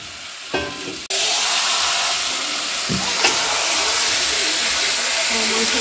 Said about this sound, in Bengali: মাংসটা কষিয়ে নিই ভালো করে।